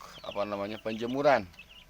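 Chickens on a poultry farm clucking close by, a few short rising calls and a squawk in quick succession over a quiet background.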